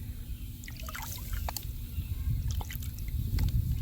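Water sloshing and trickling out of a gold pan as paydirt is panned, soft drips and swishes close by, quiet and unhurried, with no talking.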